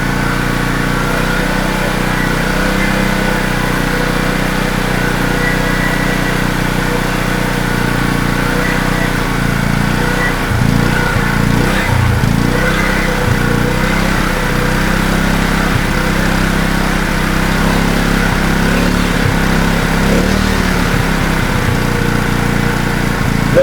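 A petrol generator engine runs steadily on choke with a carburettor fault, a loud, continuous small-engine drone that holds its note for the whole stretch and wavers slightly near the middle.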